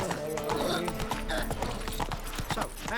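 Roach, Geralt's horse in The Witcher 3, galloping with rapid continuous hoofbeats and a faint whinny, while a voice speaks over the sound.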